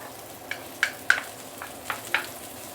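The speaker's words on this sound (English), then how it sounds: "Saute them until you really get the aroma out." Aromatics sautéing in a pan for a Johor Bahru claypot fish head dish with young ginger, heard as a soft background sizzle broken by five sharp, close scraping and stirring clacks spaced about half a second apart.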